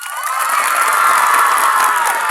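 A large crowd at a lively outdoor gathering roars with cheering and shouting, high voices included, loud and sustained throughout, with little distinct clapping.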